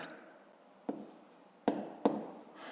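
A pen or pencil writing subtraction figures on paper: soft scratchy strokes punctuated by three sharp taps, close and quiet, with no talking.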